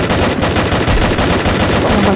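Loud, close automatic gunfire from an enemy in the Free Fire mobile game, a dense unbroken stream of rapid shots filling the whole moment.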